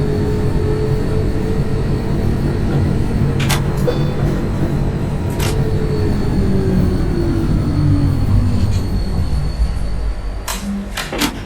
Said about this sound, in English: I'm also on a new tram.